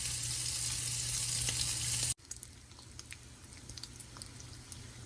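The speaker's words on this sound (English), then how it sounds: "While our bacon is frying up rather nicely" Bacon sizzles loudly in a hot pan, then the crackle drops suddenly to a quieter steady fry with scattered pops.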